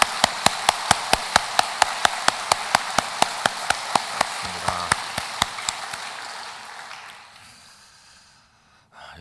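A church congregation claps together at a Korean service, a dense burst of many hands that starts loud and steady, keeps up a regular beat, then thins and fades out toward the end.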